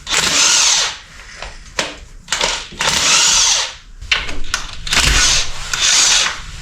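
A power tool backs cross bolts out of the main caps on a failed Toyota engine, running in several bursts of a few seconds each with short pauses between them and loud, close whirring.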